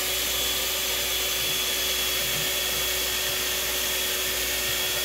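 Blender grinding cold mango cream into a mousse, a steady loud broadband whir with a constant motor whine that holds unchanged for the whole stretch, with no talk over it.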